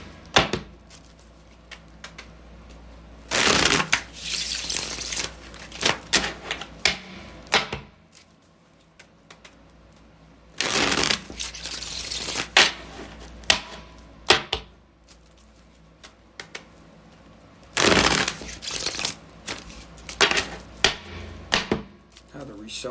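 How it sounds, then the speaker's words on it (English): A tarot deck is shuffled in three loud bursts of riffling, each followed by scattered sharp taps of cards being squared and set down, close up with no talking. "I had to reshuffle that."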